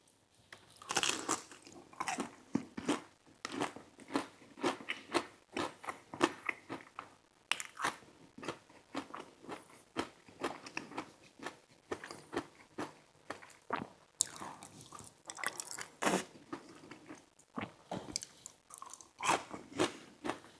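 Spicy chicken nuggets are eaten up close: repeated crunchy bites and wet chewing come in an irregular rhythm with short pauses between, and no one speaks.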